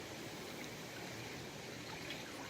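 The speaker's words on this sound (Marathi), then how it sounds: "ही आमची गोवळकरवाडीची नदी" A village river flows with a continuous faint wash of running water and small trickles, heard steadily with no talk.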